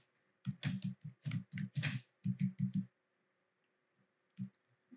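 Fingers type a first name on a computer keyboard: quick bursts of crisp, close key clicks over about two seconds, a short pause, then a few scattered taps.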